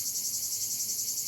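Honeybees buzz at the hive in a dense, steady, high-pitched drone with a gentle pulsing swell, close and continuous.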